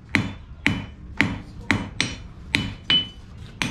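A blacksmith's hammer strikes hot metal on an anvil in a steady rhythm, about eight sharp ringing blows close by, each with a short metallic decay, and no voices.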